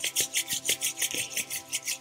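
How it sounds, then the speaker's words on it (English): Palms rubbed briskly together in a quick, even back-and-forth rhythm, a close dry swishing of skin repeated about a dozen times with no voice. "Let's rub the hands together."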